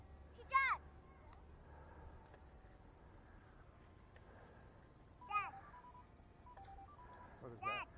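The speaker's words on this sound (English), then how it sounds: "That's my phone, which we will ignore." A mobile phone rings three times in short melodic bursts, faint to moderate, spaced across a quiet outdoor scene with a low background rumble.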